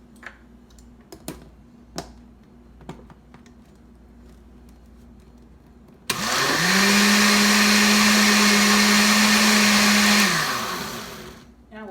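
After a few light taps and clicks, a blender roars to life for about four seconds, a loud steady whirring whine that then winds down.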